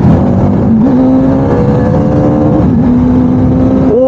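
Motorcycle on new CEAT Zoom Rad X1 tyres riding at high speed, engine droning loud and steady with a shifting whine as it pulls hard, wind noise constant throughout.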